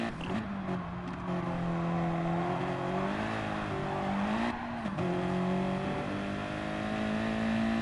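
Race cars, a BMW M6 and an Audi, lapping a track in a racing video game, engines droning steadily near and loud with pitch rising and dipping through gear changes.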